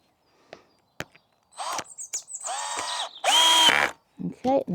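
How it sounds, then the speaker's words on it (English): A power drill whirs in several short bursts, bogging and whining as it bores a pilot hole into wood at close range, with brief pauses between pulls. "Let's drill a pilot hole."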